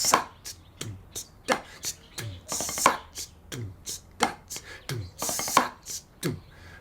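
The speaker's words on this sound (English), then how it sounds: "let's take that now and play it a little bit faster" A snare drum plays a backbeat pattern with quick rolls at a brisk tempo, sharp crisp hits recurring steadily alongside deeper thumping beats, close and clear with no talking.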